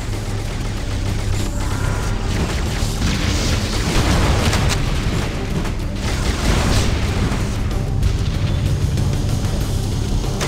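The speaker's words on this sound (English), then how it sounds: "That should be enough to trigger a wildcat explosion of the engines." Reactor engines blowing apart in the Halo CE SPV3 game, a continuous loud barrage of deep booms and rumbling blasts with crackling debris that keeps going the whole time, with no talking.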